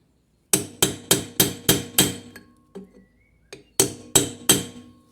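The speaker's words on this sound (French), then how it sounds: "Un coup de burin là en dessous." A hammer drives a chisel under a Peugeot 206: six sharp ringing metal strikes in a steady run, a pause with a couple of lighter taps, then three more loud blows, close and alone.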